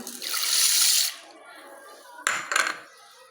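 Soaked lentils are rinsed by hand in water in a home kitchen, with a long sloshing swirl followed by two shorter splashy bursts, close and fairly loud, no talking.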